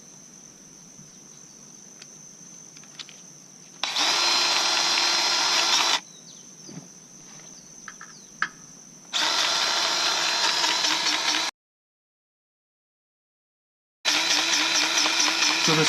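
A Dewalt electric grease gun pumps grease into equipment fittings in bursts of steady motor whine, three loud runs of a few seconds each separated by quieter stretches and a brief silent gap.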